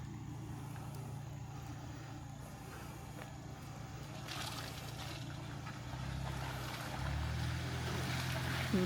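A Ford Bronco set to mud mode pushes through a water-filled mud hole on an Everglades trail, a low steady engine hum with sloshing and splashing water that swells toward the end.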